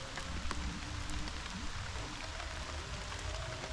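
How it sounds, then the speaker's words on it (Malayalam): Heavy rain pours steadily while travelling by scooter around Vattavada in the misty Munnar hills of Kerala, a continuous close, even hiss with no talk. "രക്ഷയില്ല, അടിപൊളി മഴ."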